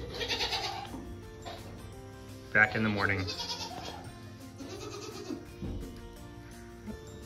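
Goats roaming free in a barn at night bleat repeatedly in loud, wavering calls, several overlapping and close by, while a person speaks briefly between them.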